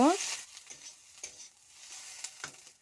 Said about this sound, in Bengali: এবার পেঁয়াজটা হালকা লাল লাল করে ভেজে নেব